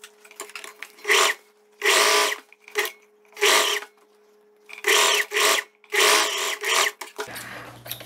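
A sewing machine runs a seam joining a viscose dress to its lining at the neckline, in several separate bursts of steady whirring with short pauses between them, close and clear, no talking.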